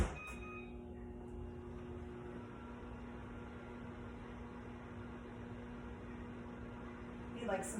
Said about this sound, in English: I'm gonna microwave it a little bit.